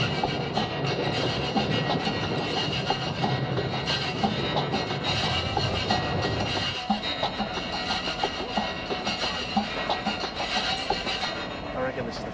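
Interior rumble of a passenger train travelling through the Australian savannah, a steady broadband roar with faint rhythmic clicks of the wheels, heard up close with a voice speaking briefly over it.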